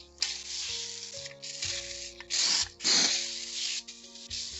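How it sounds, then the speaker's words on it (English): Several bursts of hissing spray from a cleaner spray bottle onto the outside of a pan, some short and some longer, come close up over faint background hum. "Just going to spray the outside."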